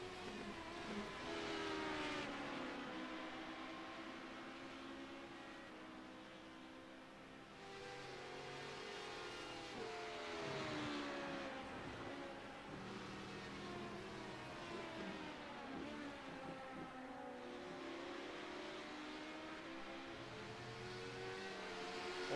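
Onboard a Honda LMP2 race car at Silverstone, the engine holds a steady high-pitched howl whose pitch rises and falls through gear changes and corners, sustained and close throughout.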